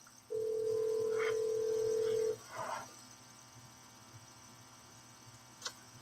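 A telephone call is placed on speaker: a clear steady tone holds for about two seconds, then a few faint blips and a quiet hum, with a sharp click near the end.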